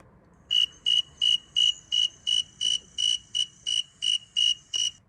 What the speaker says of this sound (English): So I'm going to play the loud and fast one again.